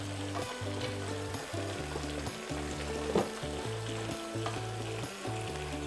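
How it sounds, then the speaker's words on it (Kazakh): Carrots fry for pilaf in a Redmond multicooker, a steady close sizzle of oil with small crackles and occasional stirring scrapes, continuous for several seconds with no talk. "Сәбізімізді әбден қуырылғанша қуырамыз."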